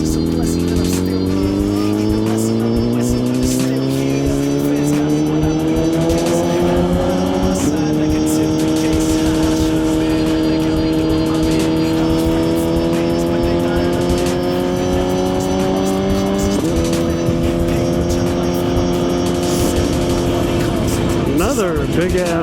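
A Suzuki GSX-R1000 sport motorcycle cruises through a night ride, its engine droning loud and close with steady rising pitch through the gears, two upshifts breaking the climb, under constant wind noise.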